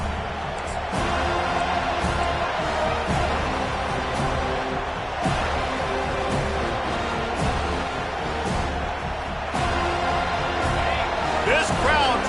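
A large football stadium crowd at a Florida State game roars steadily and loudly throughout, a dense, continuous wash of noise with a broadcast commentator talking over it.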